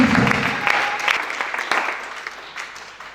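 A church congregation bursts into applause, dense clapping loud at first and gradually thinning and fading, with a few voices calling out over it.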